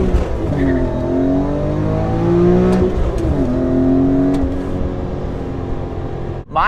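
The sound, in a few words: supercharged BMW car accelerating after downshift into third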